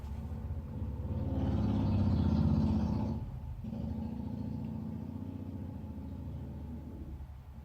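Outside road traffic: a loud rumbling car swells past within a few seconds, then a second vehicle's engine hum follows and fades, heard alone without talk.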